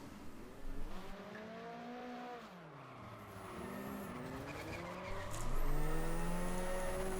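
A Mitsubishi Lancer Evo X in the Automobilista racing game, engine note rising and falling through gear changes with tire squeal over an off-road course, steady and fairly loud, no talking.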